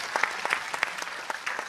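Audience applause for a lyricist at a birthday celebration and band launch event: a brief burst of clapping from many hands, fairly close and lively.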